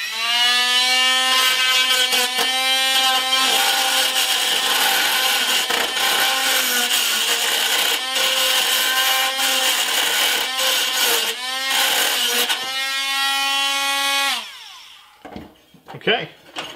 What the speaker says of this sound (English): I find a cordless rotary tool works the best